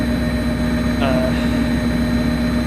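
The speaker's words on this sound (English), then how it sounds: "Subpar engine sounds on locomotives, especially this one." A steady, droning MPI F40PH-3C locomotive engine idle in a train simulator game, with a constant low hum, alone and unchanging throughout, with a brief faint whistle-like tone partway through.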